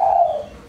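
Spotted dove (tekukur), a former ground-decoy bird, gives a single clear coo, a loud, close tonal note that slowly falls in pitch and fades, with no other sound around it.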